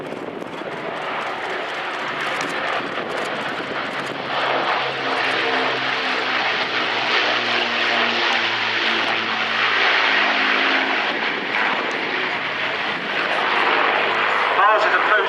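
Four propeller engines of an Avro Lancaster bomber roar loudly and continuously, a deep throbbing drone swelling slightly as the aircraft passes, with a voice speaking over it.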